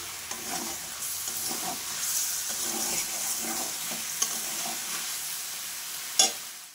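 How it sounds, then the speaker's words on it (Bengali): Spice paste being sautéed with a splash of water for a jackfruit curry, a continuous sizzle with rhythmic stirring scrapes close by and a sharp clink of utensil near the end. "একটু জল দিয়ে কষালে পরে কষানোটাও সুন্দর হয়"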